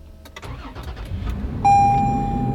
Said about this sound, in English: I'm gonna go ahead and just turn this engine on